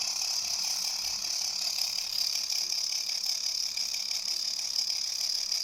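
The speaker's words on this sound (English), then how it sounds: "this is an induction motor" An induction motor spinning a reduction gear set, a continuous fast ratcheting whir with a bright, even mechanical buzz, steady throughout and without talk.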